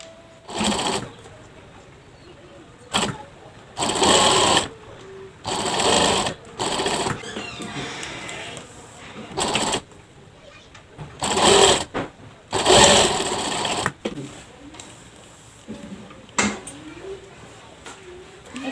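A sewing machine stitches a toddler's garment for ages one to two, running in repeated bursts of a few seconds separated by pauses, with soft handling noise in between.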